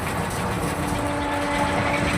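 Steady interior rumble of a moving overnight passenger train, a continuous low droning with faint humming tones and no distinct clatter, heard alone at moderate level.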